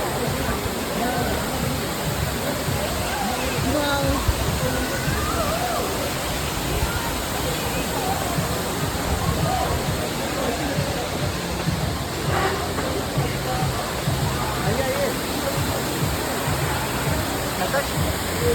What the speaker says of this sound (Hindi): ये रहा केम्प्टी फॉल।